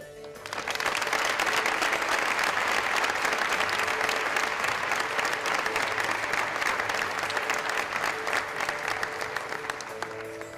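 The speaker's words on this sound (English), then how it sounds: "In your biggest round of applause yet" An audience breaks into loud, sustained applause that swells quickly and holds steady for several seconds before slightly easing.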